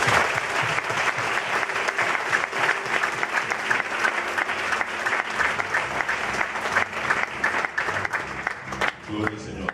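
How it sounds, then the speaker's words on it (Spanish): A church congregation applauds energetically in praise, with dense rhythmic clapping over a low musical drone and crowd voices, holding loud and steady for about ten seconds. "vamos a dar un fuerte aplauso al Señor"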